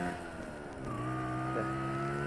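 Small Yamaha moped-sized motorbike pulling away in second gear, a close, rising two-stroke engine note that climbs steadily in pitch over a couple of seconds.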